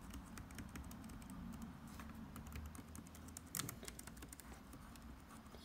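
Quiet, irregular clicking of keys being typed on a laptop keyboard, light taps scattered over a low background hum with one slightly louder clack midway.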